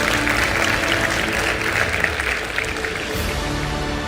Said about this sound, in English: You can clap for that because let's go.